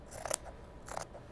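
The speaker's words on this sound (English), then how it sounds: "what I'm going to do is just trim that off" Scissors make two quick, close snips, cutting excess fabric from a sewn fabric envelope, with quiet pauses between the cuts.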